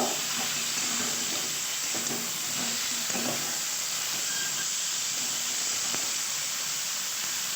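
Mixed winter vegetables sauté in a pan with mustard and poppy seed paste, a steady close hiss and sizzle running throughout, with faint soft stirring scrapes now and then.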